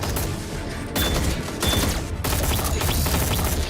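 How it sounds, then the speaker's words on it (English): Dense automatic gunfire from a TV space-drama battle scene, a continuous loud barrage of rapid shots with slight surges and short dips, filling the whole stretch without speech. "Everybody on my mark, stand by for cover fire."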